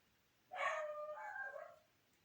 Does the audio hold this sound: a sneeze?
no